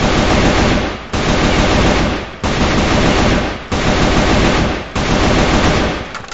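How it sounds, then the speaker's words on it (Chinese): AK-47 rifle in a video game firing rapid automatic fire, about thirty shots in five seconds, heard as loud, dense bursts of gunfire broken by short regular pauses, with no voices over it. "我现在不说话，然后大家仔细呢能听一下枪声"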